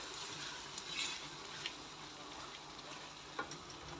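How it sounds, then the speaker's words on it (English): Tomato paste cooking in a pan for spaghetti and sausage sauce gives off a steady, soft sizzle and crackle, with a few brief ticks and small pops rising above the constant hiss. "I'll give this 5 minutes for my tomato paste to cook."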